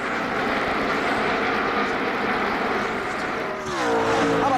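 NASCAR Winston Cup stock cars racing at Darlington Raceway give a sustained engine roar, with one car's pitch sweeping sharply as it passes close near the end.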